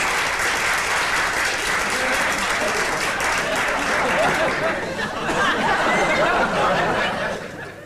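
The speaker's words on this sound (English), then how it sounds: "Applause, applause!" Schoolboys in a school hall applaud a polar explorer and distinguished old boy arriving as guest speaker, a loud, sustained clatter of many hands with scattered chuckles and chatter, tapering off at the end.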